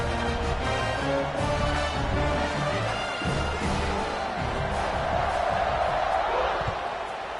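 Dense, roaring crowd noise fills a packed FSU football stadium as fans get behind the home team just before the kickoff, a sustained, steady wall of cheering with a broadcast commentator's voice audible in spots.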